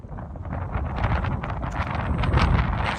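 Wind buffets a microphone outdoors beside a 2025 Newmar Dutch Star 4325 diesel pusher motorhome, a steady rumbling roar with gusty swells that grows slightly stronger, close and loud with no voices.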